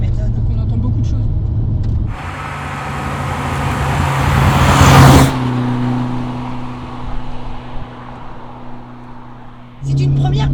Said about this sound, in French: Ce que j'aime beaucoup, c'est qu'on entend beaucoup le son du moteur.